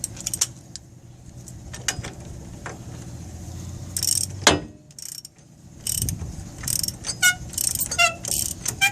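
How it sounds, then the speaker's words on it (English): Hand ratchet loosening a bolt on a Dodge 2500 4x4 ball joint, with rapid bursts of close metallic clicking, a sharp clunk midway, then faster repeated ratcheting strokes, loud and mechanical, with no talk. "Impact won't fit, so we're just going to use a ratchet."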